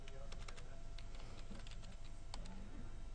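Keys clatter quickly on a computer keyboard as a command is typed into a terminal window, a steady run of light clicks over a low background hum.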